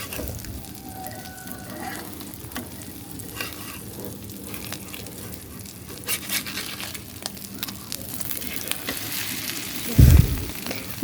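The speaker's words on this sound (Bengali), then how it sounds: "তো আমি ডিমটা এখন ভেজে নিব।" An egg fries in a pan with salt, giving a continuous crackling sizzle close by, broken by occasional scraping stirs, and a sharp loud clatter near the end.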